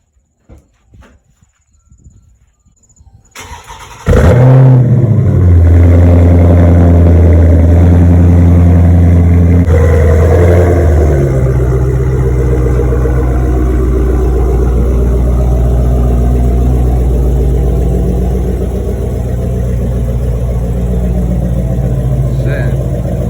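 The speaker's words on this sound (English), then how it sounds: "Car sounds pretty good though." A 2022 Dodge Charger Scat Pack 392 engine starts and revs loudly up close, then settles into a deep, steady rumble that holds for a long stretch.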